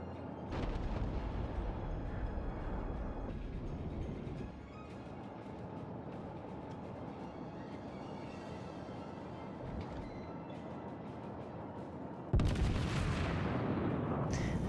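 New Mexico battleship main guns firing in World of Warships, a dense rumbling barrage of heavy naval cannon over continuous game noise, ending in a loud, sharp boom near the close.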